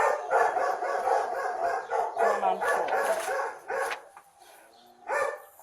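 Several dogs bark rapidly and excitedly at a house during a police visit, yips and woofs overlapping loudly, then trailing off into a pause before one last bark; a person speaks briefly.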